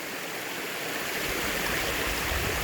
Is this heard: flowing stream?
yes